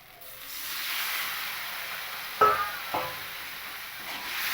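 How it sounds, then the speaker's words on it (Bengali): Spice paste for a vegetarian gathi kochu curry sizzles steadily in a pan after a little water goes in, a soft continuous hiss with two brief knocks of a spoon partway through. "আর একটু জল দিয়ে আমি মশলাটাকে খুব ভালো করে কষিয়ে নেব"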